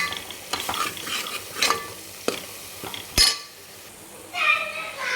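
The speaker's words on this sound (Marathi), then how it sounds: "दही जोपर्यंत फेटून होत नाही तोपर्यंत आपल्याला ह्याला फेटून घ्यायचं आहे" Curd being whisked in a pan for egg curry: scattered metal scrapes and clinks of a spoon against the pan at an irregular rhythm, close by, with a faint sizzle underneath.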